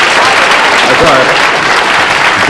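A game-show studio audience bursts into loud, dense applause, a steady wash of many hands clapping close and full throughout.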